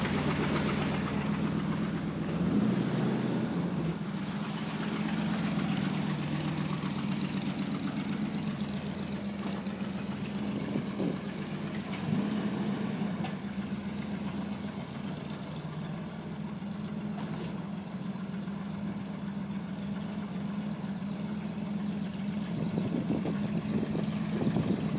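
A 1973 Ford F100 truck engine idles steadily at close range, a low continuous rumble with a faint rough knock running through it and no break across the whole stretch.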